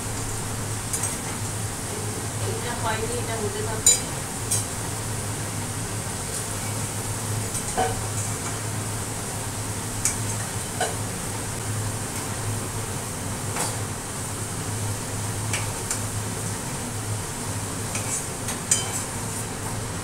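Potatoes frying in hot oil in a home kitchen pan as they are lifted out, a steady sizzle with occasional utensil scrapes and clinks, while a voice speaks briefly.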